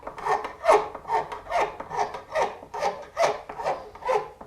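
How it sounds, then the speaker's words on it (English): A three-corner file lightly rasps the fret ends of a guitar in about ten short, rhythmic strokes, close and clear with no talking. "Now I like to come back with my 3-corner file and touch up the ends just a little bit, ever so lightly."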